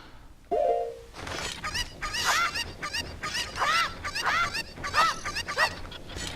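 Chickens in the Zelda: Ocarina of Time video game cluck and squawk repeatedly, with a sharp sword-slash swish at the start followed by a steady run of bright, close, overlapping game-bird calls.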